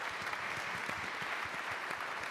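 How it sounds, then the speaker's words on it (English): Audience applause at a technology conference panel, dense even clapping from a large crowd filling the hall, steady and moderately loud for a couple of seconds. "how about a round of applause for Niklas?"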